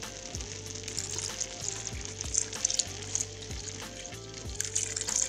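Milk poured into drying rice in a hot pan for creamy arroz con leche sizzles and fries steadily up close, with faint stirring taps and a bright crackling hiss throughout.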